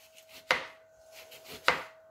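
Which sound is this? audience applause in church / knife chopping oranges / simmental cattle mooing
knife chopping oranges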